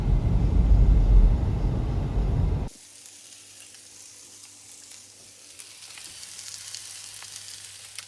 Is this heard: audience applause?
no